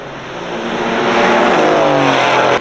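Race cars, including a Mercedes-AMG and Porsche Caymans, roar down the back straight at Summit Point Motorsports Park during a track day, engine noise swelling louder as they approach and pass.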